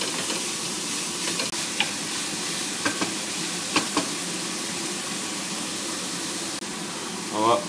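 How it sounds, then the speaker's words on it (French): Ground meat sizzles and crackles steadily in a pan with softened onions, with occasional scraping stirs and clinks of a utensil; someone speaks briefly in the background. "on verse la viande dans les oignons une fois qu'ils sont un peu revenus. On va mélanger les 2 ingrédients"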